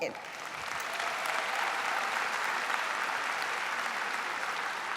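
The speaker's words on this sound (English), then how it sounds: "Please help me give these women a round of applause" Sustained audience applause fills a convention hall at an American Legion Auxiliary national session, steady dense clapping from a large crowd that swells slightly after the start and holds evenly throughout.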